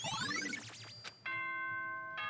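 Danganronpa: Trigger Happy Havoc plays a doorbell-like chime, first a quick flurry of sweeping bright tones, then a clear sustained multi-note ding-dong ringing alone before a short high sparkle at the end.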